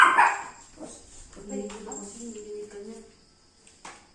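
A small dog gives a sharp yip, then whines and barks a few times close by while a person speaks softly.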